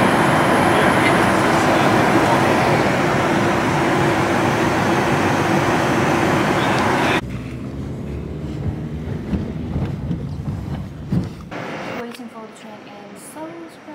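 Loud rushing rumble of a moving train fills the first half, then drops to a quieter rattling interior with scattered clunks.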